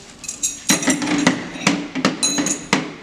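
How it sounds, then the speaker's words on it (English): Metal trailer U-bolts clink and clatter as they are pulled from a box, giving a string of sharp, close metallic knocks at an uneven rhythm. "We'll pull out the U-bolts here."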